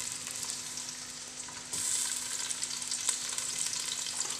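Steady sizzling and crackling of onions frying in hot oil, close by, growing louder partway through, with no talking.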